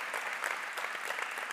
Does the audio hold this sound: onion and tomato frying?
no